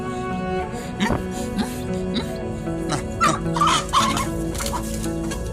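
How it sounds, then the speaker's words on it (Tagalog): Poultry calls, fowl vocalizations sounding like clucks and gobbles from a small backyard flock of four chickens, repeating at moderate distance over steady background noise, with a dog nearby and a voice briefly heard. "Ang apat nating manok."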